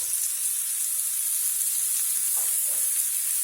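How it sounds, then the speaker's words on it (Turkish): Chopped onions sizzling steadily in about half a tea glass of vegetable oil in a frying pan, a constant bright hiss with a couple of faint stirring scrapes, close and even. "soğanları güzelce kavuralım"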